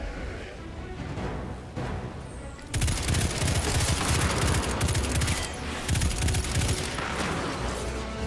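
Rapid bursts of gunfire in the video game Destiny 2 rattle loudly and continuously, starting after a quieter few seconds of game sounds.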